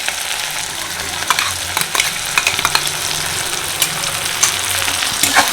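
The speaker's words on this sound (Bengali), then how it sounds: "পেঁয়াজ ভাজার মধ্যে চিংড়ি বাটাটা দিয়ে ভাজা করেছি" Prawn paste frying with onion and tomato in a pan, a steady loud sizzle with bursts of crackle and occasional scraping as it is stirred.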